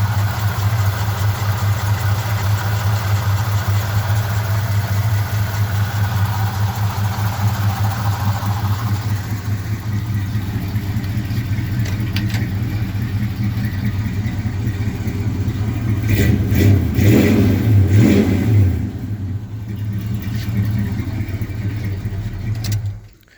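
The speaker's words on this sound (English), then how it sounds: "Oh, I guess I could let you hear the motor. It's real quiet." A 1978 Chevy C10 pickup truck engine idles with a steady low rumble for a long stretch, briefly revving louder near the end before cutting off.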